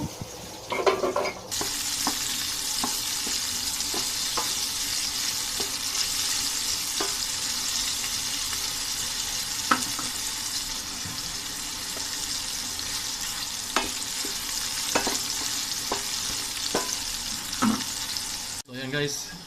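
Annatto seeds sautéing in oil in a pan for beef oxtail kare-kare, a steady close sizzle with scattered stirring clicks and scrapes running throughout, ending in a brief pause.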